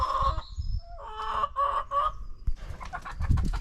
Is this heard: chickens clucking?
yes